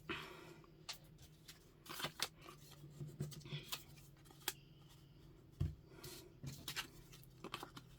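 Scissors snipping scrap card for junk journal embellishments, a quiet run of short crisp cuts and paper rustles spread irregularly over several seconds, close by with no talking.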